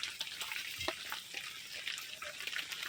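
Luchi, a puffed flatbread, sizzles steadily in hot oil on a stove, a soft continuous crackle with a few brighter pops and faint clinks, close by and with no talking.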